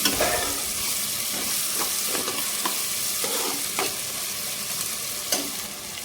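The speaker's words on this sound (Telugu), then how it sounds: "తర్వాత మూత ఓపెన్ చేసుకుని ఒకసారి మళ్ళీ అడగంటకుండా ఇదంతా బాగా కలుపుకోవాలి." Palakura chukkakura, a spinach and sorrel leaf curry, being stirred in a pan: a steady close sizzle with repeated scraping strokes of the spoon at an uneven rhythm, no talking.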